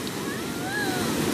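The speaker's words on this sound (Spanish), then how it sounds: "El mar sí está bravísimo." Rough, heavy sea surf breaking on a shore, a steady loud wash of wave noise with wind buffeting the microphone.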